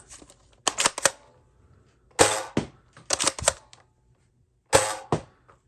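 A Nerf Elite Jr. Cadet blaster being primed and fired, several sharp mechanical clacks and spring snaps in short clusters separated by quiet pauses, close and crisp.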